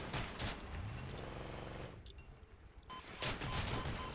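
Dense bursts of gunfire in the vehicle combat game Crossout, loud and continuous at the start, thinning to a brief lull with scattered shots, then a heavy burst again near the end.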